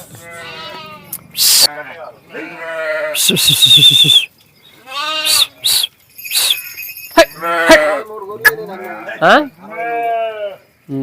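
Sheep in a village flock in Jagtial, Telangana bleat repeatedly, several wavering calls close by in quick succession, with a few sharp knocks and rustles between them.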